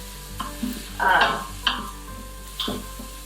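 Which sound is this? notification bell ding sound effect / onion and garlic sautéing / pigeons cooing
onion and garlic sautéing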